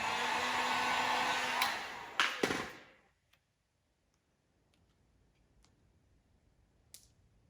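A heat gun warming a vinyl headlight overlay on a 2015-2020 Subaru WRX / STI, a loud steady blowing hiss that cuts off after about three seconds, followed by near silence with scattered faint clicks and taps.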